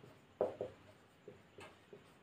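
A pen writes a geometry proof on paper, with a few soft separate scratches and taps, close and faint, in a quiet room with no talking.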